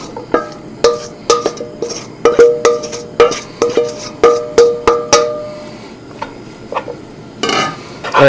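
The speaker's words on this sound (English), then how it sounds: "once your pan is hot, you can go ahead and add your tofu to it" Tofu dropped into a hot pan for a scramble, giving a run of sharp clattering knocks and scrapes close by, spread unevenly over several seconds with a steady faint sizzle underneath.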